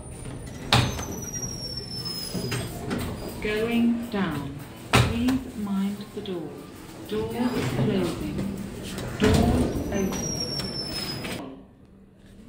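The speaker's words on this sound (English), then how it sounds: "Please mind the doors. Doors closing." Sliding doors of a Southern Lifts passenger lift at a Morrisons store in Congleton, with a soft mechanical rumble and knocks as the doors close, mixed under automated voice announcements and chime tones.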